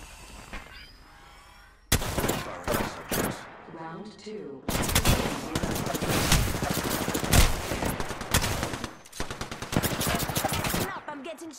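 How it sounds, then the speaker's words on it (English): Bursts of rapid video game gunfire crackle loud and close in dense volleys, broken by brief pauses, with voices talking over the shooting. "Stop, I'm getting shot at."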